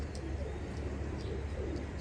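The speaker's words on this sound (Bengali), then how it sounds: "সবগুলি কবুতর আজকে যা দেখাবো সবগুলি খুব সুন্দর এবং খুবই ভালো কোয়ালিটির রেজাল্টেড কবুতর।" Pakistani high flyer pigeons coo softly and repeatedly at close range, a low steady murmur with a few faint higher chirps over it and no talking.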